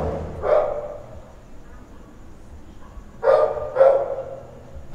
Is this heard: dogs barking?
yes